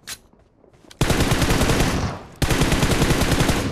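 Automatic gunfire in the mobile battle royale game PUBG Mobile: a brief quiet moment, then two loud, sustained rapid-fire bursts close by, with no talking.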